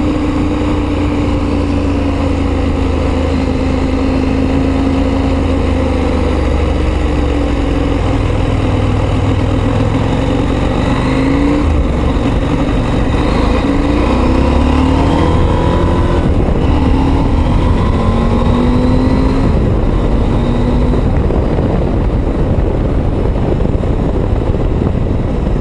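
A KTM 890 Adventure motorcycle engine drones steadily while the bike is ridden on the road. The loud, close exhaust note shifts gently in pitch as the speed changes, with strong wind rush and no speech.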